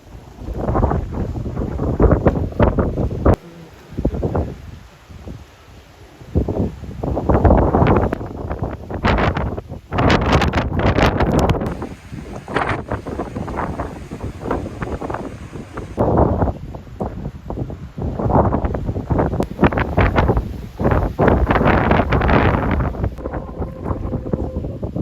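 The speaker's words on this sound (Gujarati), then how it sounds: "ભાઈ એકદમ ફૂલ વરસાદ ચાલુ છે" Strong storm wind with heavy rain in a village, loud roaring gusts buffeting the microphone in repeated surges with brief lulls, continuous and close.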